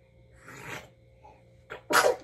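A person sneezes at close range, a softer breathy burst followed by a sharp, loud sneeze near the end, with no talking.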